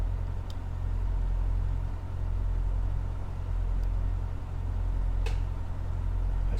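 A Cessna 152 engine idles in a flight simulator at night over the Shenandoah Valley, a steady low rumbling drone with faint clicks now and then, even and continuous with no voices.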